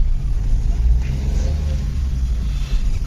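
A car driving along a narrow, winding mountain road toward Chopta in Uttarakhand, heard from inside as a steady low engine rumble and road drone, fairly loud and continuous, with no clear talking.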